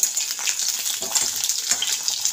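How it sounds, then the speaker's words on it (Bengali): Potatoes fry in hot oil with panch phoron spices, a loud close sizzle with bright crackling and spitting that continues throughout. "পাঁচফোড়নের সাথে আলুগুলো দিয়ে দেবো। এই যে ভাজা ভাজা হচ্ছে"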